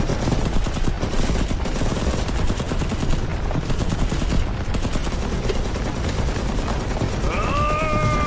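Rapid gunfire and machine-gun bursts rattle continuously in a dense barrage, loud and close, with a rising synthetic tone at the end.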